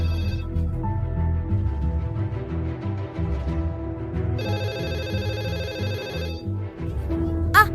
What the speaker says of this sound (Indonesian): Teleponnya berdering lagi.